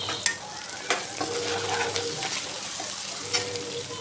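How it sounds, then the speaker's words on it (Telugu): Ginger garlic paste stir-fried in hot oil in a pan, with curry leaves and turmeric, for egg bhurji: a steady close sizzle with irregular scraping and stirring strokes of a spoon against the pan. "అల్లం వెల్లుల్లి పేస్టు పచ్చివాసన పోయే వరకు కలుపుతూ వేయించుకోవాలి"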